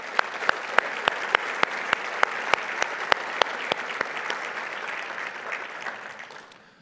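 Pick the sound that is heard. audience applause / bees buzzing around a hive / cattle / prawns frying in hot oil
audience applause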